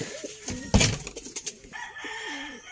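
A thin pet pigeon kept outdoors beside a house coos in a few short, warbling calls, fairly close. A sharp clatter breaks in partway through and there is background noise, but no talking.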